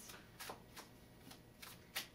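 Tarot cards shuffled by hand, heard as a series of short, crisp riffling bursts at an uneven rhythm, fairly faint and close, with no talking.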